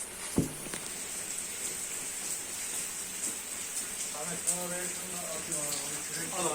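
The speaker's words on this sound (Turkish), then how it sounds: "Semaver çayımız Böyle mükemmel yağmurun altında anlatmaya değer." Steady rain falls outdoors around a samovar tea setup, a soft continuous hiss with occasional drips, as someone talks briefly toward the end.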